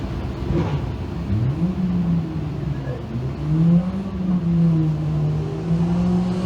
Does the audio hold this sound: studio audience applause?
no